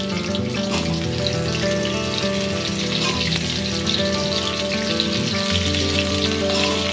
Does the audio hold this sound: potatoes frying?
yes